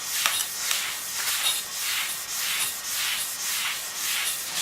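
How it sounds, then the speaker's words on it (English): A bowling ball is hand sanded with 180 grit sandpaper, giving close, steady rhythmic scratchy rubbing strokes, about one per second, repeated throughout. "I just want to rub it enough to get every little bit of the ball to have the same scratches on it."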